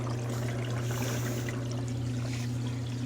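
Water drains back down through a plumbing pipe and check valve after a pump stops, a steady close trickling gurgle over a constant low hum.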